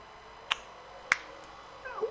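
Two sharp, isolated hand claps about half a second apart, crisp and moderately loud against a quiet room, followed by a faint brief murmur.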